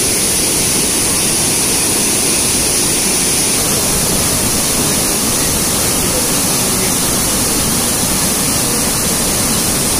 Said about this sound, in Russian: Сейчас из шлюзовой камеры вся вода выйдет.